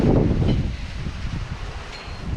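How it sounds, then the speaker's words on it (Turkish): Strong wind buffets the microphone in heavy, uneven gusts on a cold evening in rural Bayındır, İzmir, loud at first and then easing into a rumbling rush. "Çok rüzgar var ve soğuk var."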